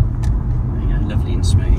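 A 2008 Honda Legend 3.5 V6 VTEC automatic saloon drives up a road, its engine a steady low rumble close by under someone talking.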